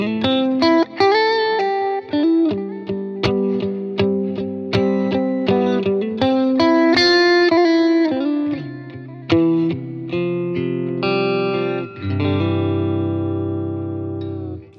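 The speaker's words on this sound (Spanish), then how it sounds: "Y básicamente el primer amplificador suena así." Electric guitar played through the first amp model of an HX Stomp preset pack, a loud, close run of picked notes and chords with a processed, effected tone and a final ringing chord.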